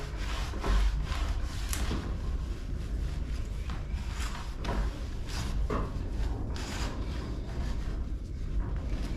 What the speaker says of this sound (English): Yeah, so take a rag or microfiber here.